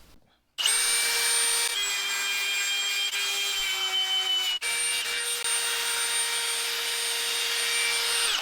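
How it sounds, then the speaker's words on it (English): Close, loud wet sanding of car headlight lenses with 3000 grit sandpaper on a power tool: a steady whining motor drone starts abruptly, holds with a slightly sagging pitch, cuts out for an instant, then resumes evenly with no speech. "We're gonna use this 3000 grit and do a wet sanding on both headlights."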